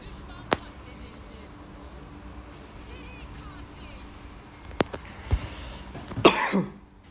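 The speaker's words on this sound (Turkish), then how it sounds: "Ama bu öksürüğün çözümü yok arkadaşlar" A single cough bursts out near the end after a few faint clicks and soft taps, with quiet background noise throughout.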